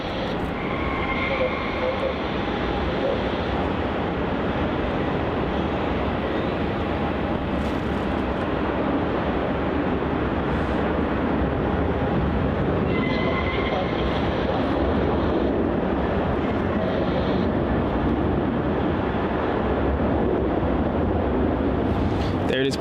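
Qantas QF702 airliner departing Melbourne Airport on its way to Cairns, a steady broad jet engine roar held loud throughout at a distance, with wind noise and some talk over it.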